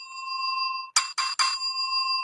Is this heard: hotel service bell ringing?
yes